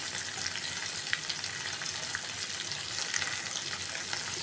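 Slit green chilies and nigella seeds sizzling in hot oil for a Bengali fish curry, a steady, dense frying hiss that continues evenly throughout without pause.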